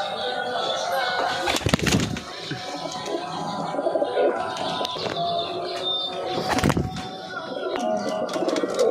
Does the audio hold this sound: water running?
no